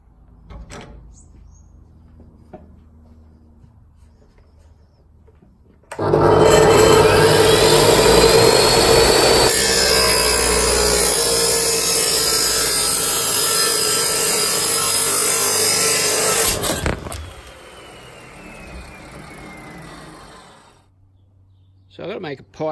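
Cutting wheel slicing through a 2-inch steel exhaust pipe for a Pontiac build, a loud sustained grinding shriek lasting about ten seconds before spinning down, with quieter workshop noise around it.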